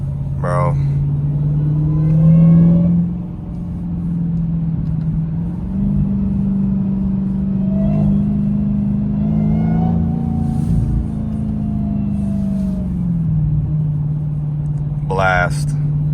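A supercharged Dodge Demon 170 V8 drones and rises at close range, with surging revs and brief pops on downshifts, while a voice speaks over the engine now and then.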